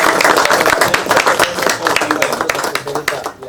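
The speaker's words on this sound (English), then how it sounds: "So big round of applause to Professor Gautam Jha" An audience at an Indian art and crafts sociopreneurship event breaks into a dense, steady round of applause that fills the whole moment, with talk faintly mixed in beneath the clapping.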